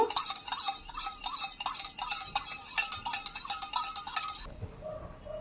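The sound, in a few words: stirring water and vinegar together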